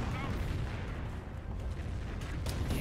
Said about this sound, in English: Here come those Nebelwerfers